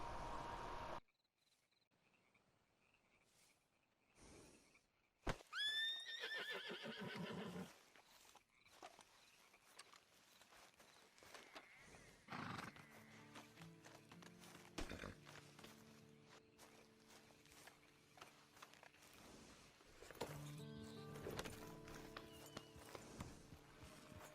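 A horse in the video game Red Dead Redemption 2 Online gives a short rising neigh, then hooves clip-clop in a steady walking rhythm under faint ambient game noise and crickets.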